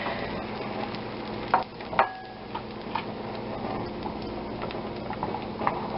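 An egg goes into foaming butter in a pan, giving a continuous soft sizzle punctuated by a few sharp clicks and taps from the spoon or pan.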